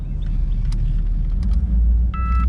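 A car with a 700R4 automatic transmission drives on the road, giving a continuous, close, low rumble with small rattles and a brief tonal chirp near the end, and no one speaking.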